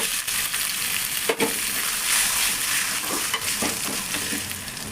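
Liver sizzling steadily in a hot pan with onion and ginger-garlic paste, a continuous close frying hiss broken by a few sharp crackles and spatters, with no talking.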